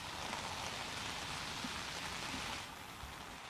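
Heavy monsoon rain pours over waterlogged Ahmedabad, a dense steady hiss that drops slightly in level toward the end, with no voices.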